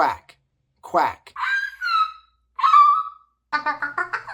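A voice imitates a bird call with honking, goose-like squawks, several separate calls broken by short pauses and ending in a quick run of clipped notes.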